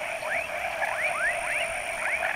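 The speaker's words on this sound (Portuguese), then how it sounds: "A rãzinha ali na beirada da lagoa aí." A small frog calls at the edge of a pond at night, repeating four or five quick rising chirps at a regular pace over a constant background hum of night insects.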